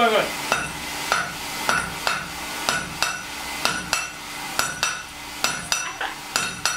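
Regular metallic strikes, about two per second, ring out sharply over a steady background as a blacksmith hammers hot steel from a semi truck leaf spring into a machete.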